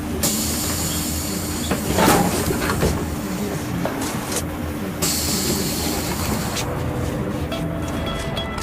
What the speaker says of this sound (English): It's our tram.